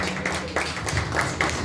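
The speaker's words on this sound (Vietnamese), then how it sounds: "quý vị hãy dành cho chị Hồng Thiếp một tràng pháo tay thật nồng nhiệt ạ" An audience at a live singing performance applauds with scattered claps, close and moderately loud.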